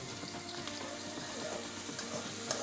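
Onions sizzling in hot oil for a chicken curry, a steady close frying hiss with faint crackles and occasional stirring, no voices.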